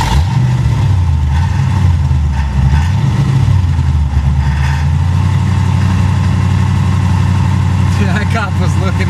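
A Mazda RX-7 with a swapped 5.0 302 V8 idles in a steady, loud low rumble with a slightly wavering pitch, and a brief voice near the end.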